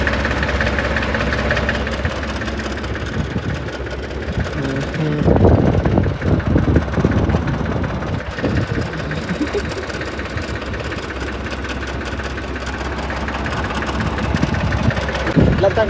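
A Kubota tractor fitted with a bed-forming implement runs with a steady, knocking diesel chug, growing louder and rougher for a few seconds near the middle before settling back into an even idle.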